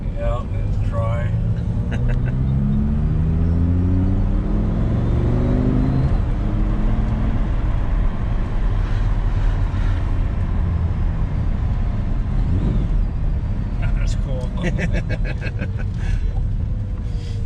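A Lamborghini engine rises and falls in pitch as it revs and downshifts hard inside the car, giving a constant loud drone, with people talking over it.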